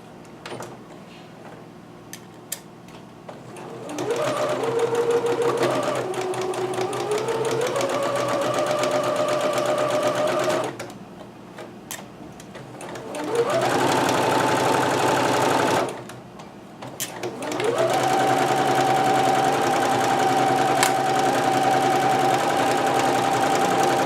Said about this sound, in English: So I'm just going to start stitching this down.